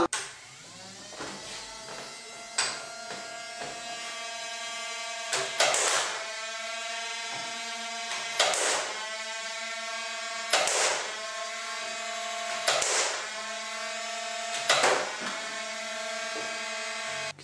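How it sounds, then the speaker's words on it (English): A motorized dart gun runs with a steady whirring hum and fires several rounds in a regular rhythm, each shot a sharp, loud burst about every two to three seconds, with no talking. "I'm gonna fire up the dart gun and fire a few rounds"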